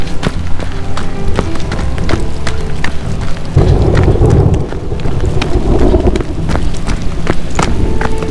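Rain pours steadily with rumbling thunder during a solo backpacking trip in Khövsgöl, Mongolia; a dense hiss of drops with sharp taps on nearby surfaces runs throughout, a low rumble swells midway, and no one speaks.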